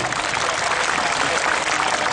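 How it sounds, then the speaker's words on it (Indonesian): Applause from an audience at an Islamic sholawat (devotional chanting) gathering, a steady dense wash of many hands clapping together, loud and continuous with no talk over it. "Terus tepuk tangan untuk mafia selawat ini."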